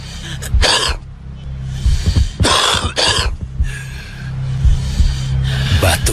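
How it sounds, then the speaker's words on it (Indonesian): Repeated harsh smoker's coughs and throat-clearing bursts, loud and close, arriving in irregular clusters over a low steady background hum. "Batuk seorang perokok adalah tanda rusaknya seluruh tubuh."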